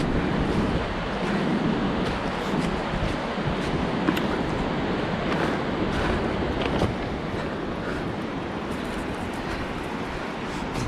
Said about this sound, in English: You can hear the falls already, but of course I think I'm also hearing some wind.